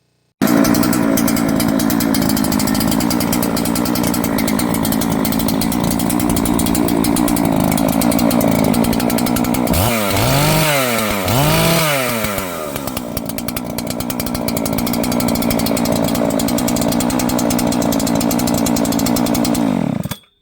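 A Husqvarna chainsaw with a steel-mount bar, started after three pulls, runs loud and close at a steady high idle, briefly revving up and down in two sweeps near the middle before settling back.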